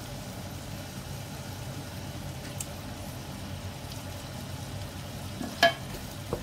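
Crushed pineapple goes into a cooking pot of simmering vegetables and gets stirred, making a soft, steady bubbling sizzle with faint scraping and one sharp clink of a utensil near the end.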